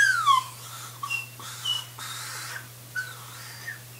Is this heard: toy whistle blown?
yes